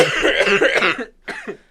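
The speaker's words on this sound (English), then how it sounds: "It's not the vid. It's just the cough." A close, harsh cough sounds in a rough burst, then a shorter second cough follows after a brief pause.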